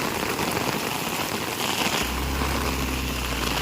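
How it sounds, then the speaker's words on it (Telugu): Heavy rain pours down at midnight in a steady, dense roar, with a low rumbling hum joining partway through. "ఇంకా వర్షం అయితే ఆగట్లేదండి"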